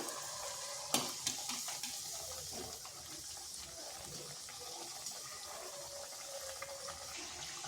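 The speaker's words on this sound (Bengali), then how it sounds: "এগুলোকে একটু সময় ধরেই ভাজতে হবে" Snack pieces fry in a pan with a low, steady bubbling hiss and a few sharp clatters near the start, fairly quiet throughout.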